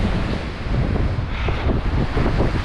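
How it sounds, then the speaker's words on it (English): Strong gusting wind buffets the microphone near a mountain summit, a loud continuous roar with rumbling low-end swells that rise and fall throughout. "The wind is gusting."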